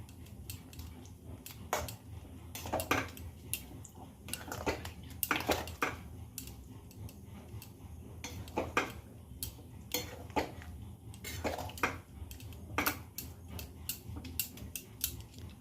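A spoon scrapes and taps against a pan while milk is stirred with nolen gur (date palm jaggery), sharp irregular clinks sounding close and alone over a low simmering hiss.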